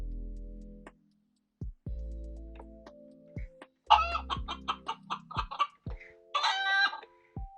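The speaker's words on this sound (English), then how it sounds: "Astro, act like a chicken." Amazon Astro home robot plays synthetic chicken noises from its speaker: a few short electronic tones, then a run of rapid clucks and a crow-like burst, fairly loud and close with no talking.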